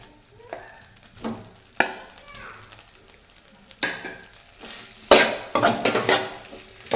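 A spoon scrapes and clatters in a pan as cooked rice is mixed with fried cauliflower gobi pieces, giving irregular metallic knocks and stirring bursts, loudest toward the end.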